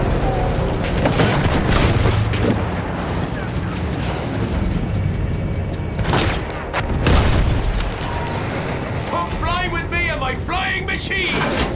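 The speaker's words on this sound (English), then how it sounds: "Field gun." A field gun fires in Battlefield 1 gameplay, heavy booms and explosions landing amid a dense, loud battle din, with shouting voices and chirpy radio-like bursts near the end.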